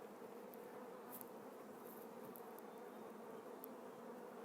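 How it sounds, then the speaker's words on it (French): Inside a beehive, honeybees and a drone make a continuous, even buzzing that stays steady and faint throughout, with a few brief higher wing whines near the close buzz. "ça c'est un mâle, hein, ce qu'on appelle faux bourdon"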